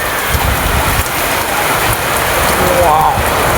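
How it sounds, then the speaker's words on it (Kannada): Heavy rain pours down steadily in a loud, dense, continuous hiss and patter close by during an early-season storm, with no break throughout. "ಫುಲ್ ಮಳೆ ಬಂದಿದೆ, ಸಪ್ಪಳ ಕೇಳಿದ್ರು ಗಾಯ್ಸ್"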